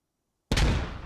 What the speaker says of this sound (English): One grenade throws over here.